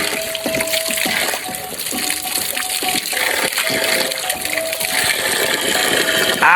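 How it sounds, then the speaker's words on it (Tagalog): Natural spring water splashes and gushes loudly and close in Mindanao, a continuous churning wash with scattered sharper splashes throughout. "Itong tubig ay tinatawag ito tubod."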